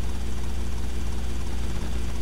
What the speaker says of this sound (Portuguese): Agora vamos pegar o helicóptero aqui.